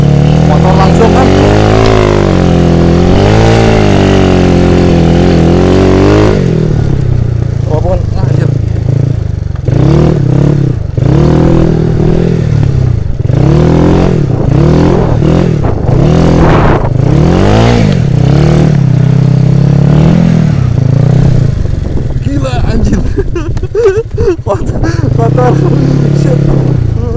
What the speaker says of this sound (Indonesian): lu tinggal miringin motor, gas, langsung